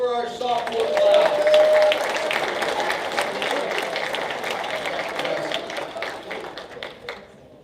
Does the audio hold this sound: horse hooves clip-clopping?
no